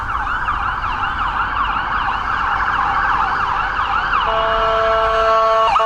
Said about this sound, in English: it is pretty common for ambulances heading into the trauma center to come flying by here